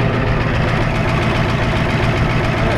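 Ford F250 with a 7.3 IDI diesel engine running just after a cold start in snowy weather, a loud, steady, close clattering idle with a deep rumble and no talk.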